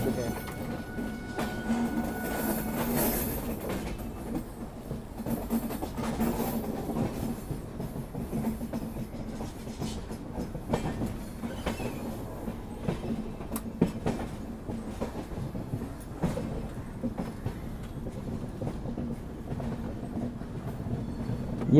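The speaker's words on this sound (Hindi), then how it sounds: "ये अच्छा ट्रेन आहिस्ता आहिस्ता चली है" Indian Railways train rolling slowly over a double diamond crossing, a steady rumble of wheels with soft clickety-clack beats from the rail joints, heard continuously at moderate distance while someone talks faintly over it.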